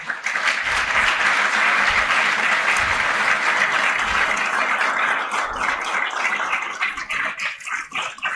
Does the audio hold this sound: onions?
no